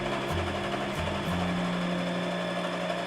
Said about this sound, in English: I'm just going to sew the two together